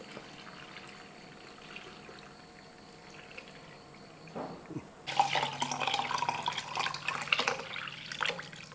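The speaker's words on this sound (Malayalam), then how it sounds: "ഇത് നമുക്ക് ഈ വെള്ളം കാന്താരി മുളകും എല്ലാം കൂടെ ഒരു കപ്പിൻ്റെ അകത്തോട്ട് ഒഴിച്ചിട്ട് ആദ്യം ഇത് നമുക്ക് ആ മാങ്ങയ്ക്കകത്തോട്ട് ഒഴിച്ചു കൊടുക്കും" Brine with kanthari chilies poured from a cup over pieces of mango, a faint quiet lead-in followed by a close, splashing liquid pour that continues for several seconds.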